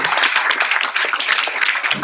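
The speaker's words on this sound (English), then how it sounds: "Can we get a big round of applause for Michael Mirola?" A crowd at a book launch applauds steadily, a dense wash of many hands clapping at once that holds for a couple of seconds.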